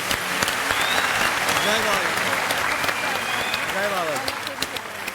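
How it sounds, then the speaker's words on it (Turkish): A studio audience on a Turkish TV comedy show applauds two women, a continuous bed of clapping with voices talking and calling out over it, fading slightly toward the end. "bu iki hanımefendiye büyük bir alkış istiyorum ben arkadaşlar"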